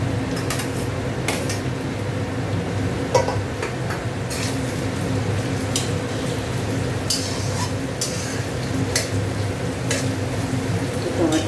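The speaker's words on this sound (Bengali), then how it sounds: "টমেটোটা ভাজা হোক" Tomato frying with already browned onions in a pan for a thin chicken curry, a dense continuous sizzle with scattered stirring clicks and taps throughout, fairly loud and close.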